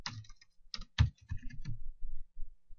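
Typing on a computer keyboard during programming: a few quick bursts of clicking keystrokes, close and fairly quiet, with short pauses between bursts and no talking.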